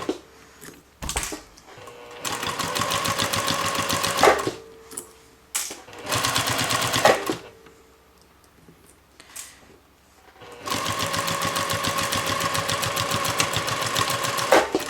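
A sewing machine stitches fabric with piping slowly around a curve in three bursts of steady whirring, separated by quiet pauses and small handling thumps, close and clear.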